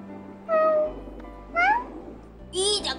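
Cats give three separate meows, each short and plaintive and the last higher-pitched, over a faint steady hum.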